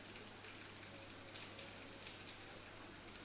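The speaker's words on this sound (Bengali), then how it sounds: "এখনো বৃষ্টি হচ্ছে, বৃষ্টিটা বেশ ভালোই হচ্ছে।" Heavy afternoon rain falls outside, a steady, faint, even hiss of drops continuing throughout with no voices.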